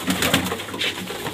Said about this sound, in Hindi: सारे कबूतर आ गए हैं